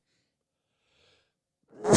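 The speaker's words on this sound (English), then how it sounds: "Sorry, I sneezed." A single short, close sneeze erupts at the very end of a near-silent moment, sharp and loud after a faint intake of breath.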